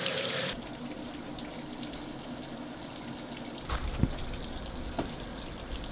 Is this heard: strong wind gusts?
no